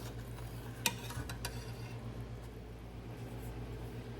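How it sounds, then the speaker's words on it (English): Muscadine jelly boiling in a pot while stirred with a spoon: a sharp clink near the start, then a few scraping strokes over a low steady bubbling hum, fairly quiet and alone. "So we're going to sit here and let it boil a little more and keep stirring."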